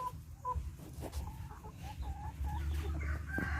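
Chickens cluck and chatter in short repeated calls over a low steady background rumble, moderately close, with no talking.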